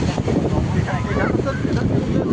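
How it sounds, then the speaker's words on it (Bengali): Strong wind at Digha sea beach buffets the microphone in a continuous, loud, rumbling roar with no pauses. "এখন বাতাসও আছে"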